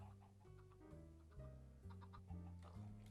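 A rooster in the Minecraft Sky Factory 3 video game clucks in a series of short, stepped calls, steady and alone without any talk over it.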